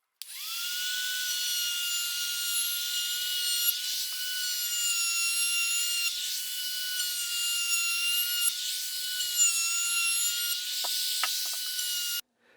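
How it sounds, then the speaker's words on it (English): Palm router fitted with a round-over bit shaping the edges of wooden end table legs by hand: a steady, loud high-pitched whine runs continuously for about twelve seconds with small dips, then cuts off. "I've installed a round over bit on my palm router, and I'm just going to do all this by hand"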